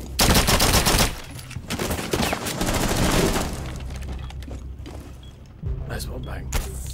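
Pistol gunfire in the Rainbow Six Siege video game: sharp bursts of shots crowd the first seconds, then scattered thuds and softer shots follow under game ambience, with a final loud crack near the end.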